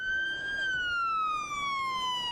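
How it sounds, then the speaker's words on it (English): Police car siren wailing during a funeral procession for a fallen Alamogordo officer, a single steady descending tone, clear and moderately loud over faint road noise. "Only sirens could be heard"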